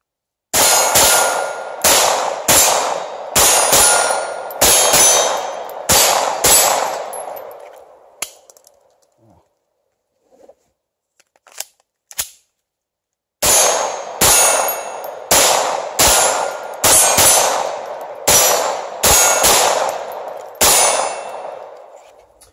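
Loud, close gunfire from a .22 Polymer 80 Glock build, fired in rapid strings of sharp, ringing cracks. A short break with a couple of isolated shots falls mid-way before another fast volley; no one speaks.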